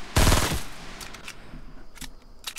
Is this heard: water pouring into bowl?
no